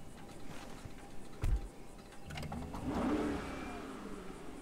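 Start-up of the Bravado Buffalo EVX electric muscle car in a video game: a brief thump followed by a rising synthetic engine-like whir that swells and settles into a faint steady hum.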